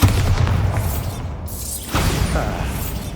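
Bombarda blasting spell in the video game Hogwarts Legacy: a sharp burst followed by a rumbling, crumbling rush of debris and rattling mechanisms, with a second impact about two seconds in.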